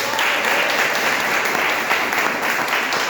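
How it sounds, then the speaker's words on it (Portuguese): Congregation applauding in church during a Sunday family service, a thick continuous wash of clapping from many people, steady and fairly loud throughout. "Quem pode aplaudir o Senhor Jesus?"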